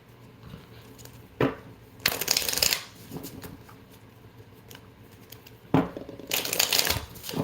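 A Love is Love (Pride) tarot deck is shuffled in two brisk bursts of riffling card noise, close by, separated by quieter rustling and handling of the cards.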